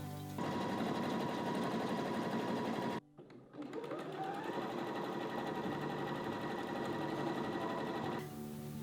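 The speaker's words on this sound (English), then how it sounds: "Then we're going to sew together the squares in each row." A sewing machine runs steadily as patchwork quilt squares are stitched together in rows, briefly stopping for a moment near the middle before running again at a slightly different speed.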